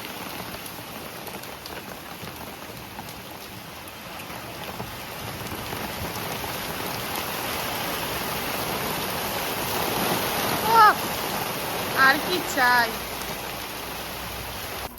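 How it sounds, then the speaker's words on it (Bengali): Steady rain falls and patters on surfaces around the listener as a dense, even hiss throughout, with a brief spoken phrase and a few short louder sounds near the end. "এখনো বৃষ্টি হচ্ছে"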